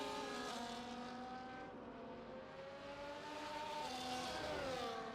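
A McLaren race car in a racing video game, engine note sweeping and shifting pitch as it flies past, steady and fairly faint, with no talk over it.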